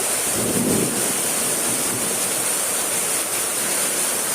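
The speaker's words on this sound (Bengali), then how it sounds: "খুব ভালো লাগছে যে বৃষ্টিটা হচ্ছে।" Heavy rain pours down outside at night during a power cut, a dense, steady hiss of falling water that fills the whole stretch without letup, close and loud, with no talking.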